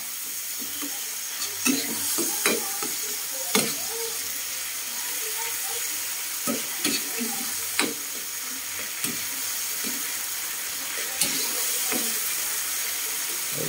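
Food fries in a pan under steady sizzling, with intermittent clanks and scrapes of stirring spaced a second or two apart, nearby and moderately loud.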